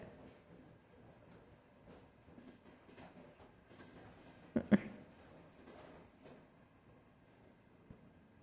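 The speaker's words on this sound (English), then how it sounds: "But we've been on the train for a while" A train rolls along in the VRChat virtual world, a soft steady rumble of wheels with faint clicking over the rails, broken midway by a couple of sharp louder clunks, then settling back to a quiet hum.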